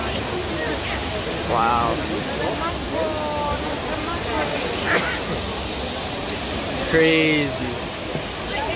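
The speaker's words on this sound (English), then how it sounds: "that's the Trevi Fountain on a Thursday" Broad steady splashing of the Trevi Fountain in Rome fills the scene, a continuous rushing wash of falling water with voices and exclamations from a crowd of tourists heard over it.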